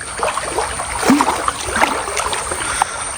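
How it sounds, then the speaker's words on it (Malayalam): Floodwater streaming out of flooded houses during heavy rain in Kerala, a close trickling and splashing flow with small gurgles, steady and moderately loud, no talk. "ഈ വീട്ടിൽ നിന്നൊക്കെ പുറത്തോട്ട് ഒഴുകി വരുന്നുണ്ട് കേട്ടോ നല്ലപോലെ വെള്ളമൊക്കെ"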